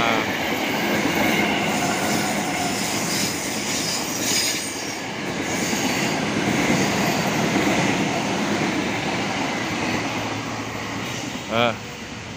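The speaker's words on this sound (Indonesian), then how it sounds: "Nih, ada kereta komuter ini." A commuter train rumbles past steadily at close range, a broad roaring wash with a brief high squeal near the end, with people talking faintly over it.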